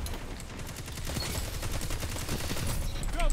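Dense automatic gunfire in the Destiny 2 shooter game, a loud continuous rattle of rapid shots lasting the whole moment, with game sound effects layered over it.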